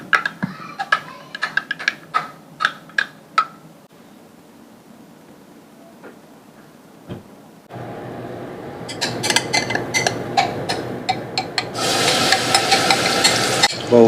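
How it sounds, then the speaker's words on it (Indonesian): Ground spice paste hits hot oil in a pan, opening with sharp scrapes and clinks of a utensil, then a short quiet spell, then a loud, rising sizzle of stir-frying. "sudah halus bumbu-bumbunya tadi, tinggal kita tumis aja teman-teman"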